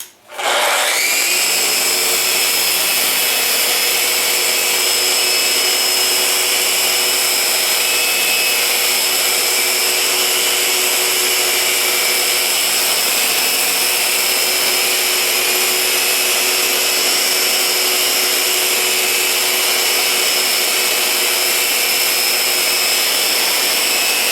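A Festool Rotex RO 150 random-orbital sander running on wood with 180-grit paper, a loud, steady whine that starts at once and holds unbroken throughout, with no talking.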